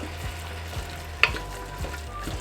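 Seasoned hamburger meat frying in a pan, a steady close sizzle with a single sharp clink partway through and soft stirring scrapes.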